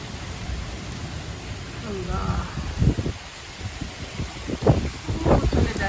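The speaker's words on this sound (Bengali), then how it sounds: "অনেক বৃষ্টি" Heavy rain and gusting wind batter the surroundings during a Kalbaishakhi storm, a steady loud wash of noise with rumbling bumps and a few faint background sounds.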